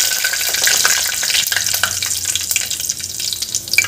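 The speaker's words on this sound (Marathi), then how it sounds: "यामध्ये तेजपान, छोटी वेलची, मोठी वेलची आणि लवंग, कलमी, मिरे एवढेच खडे मसाले घेतलेले आहे। हे घालून घ्यायचे आहे।" Whole spices (bay leaf, small and large cardamom, cloves, cinnamon and black pepper) sizzle and crackle steadily in hot oil in a pan, close and loud, with occasional stirring clicks.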